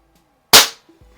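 Smith & Wesson Model 79G air pistol fired once, a single sharp close crack with a short decaying tail, followed by faint mechanical clicks.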